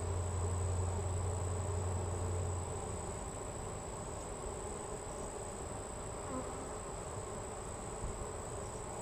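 Bees hum steadily in an open beehive during a first-year beekeeper's hive inspection, with drone brood and new bees emerging; a dense, continuous drone up close, slightly louder at the start, with no talk.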